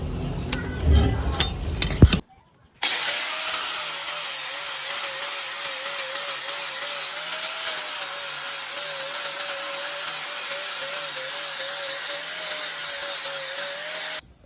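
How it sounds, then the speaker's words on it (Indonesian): Steady scraping of stacked sandpaper against a steel sickle blade, continuous and fairly loud, with a rhythmic back-and-forth texture after a short pause at the start. "semuanya ini halus pakai amplas tumpuk seperti ini"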